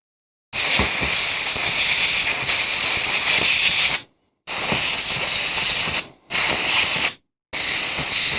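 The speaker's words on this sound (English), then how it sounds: "So I sprayed a little bit of air in there to maybe get rid of some of that stuff." A can of compressed air is sprayed into a folding knife's lock in four loud, close hissing bursts, the first long and steady, the rest shorter with brief pauses between.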